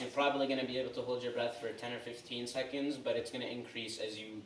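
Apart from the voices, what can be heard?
No distinct noise like a dog, phone or traffic.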